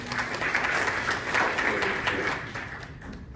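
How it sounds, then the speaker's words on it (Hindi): An audience at a reception honoring a provincial candidate claps in a steady, moderately loud wash of applause that carries on throughout and fades slightly near the end. "इनके लिए प्लीज तालियां"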